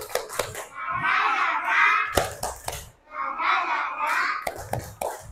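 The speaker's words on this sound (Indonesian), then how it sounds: "Sekali lagi, tepuk kiss," First-grade schoolchildren repeat a clapping ice-breaker: bursts of quick, crisp claps alternate twice with sustained chanted phrases from the whole group, loud and close in a classroom.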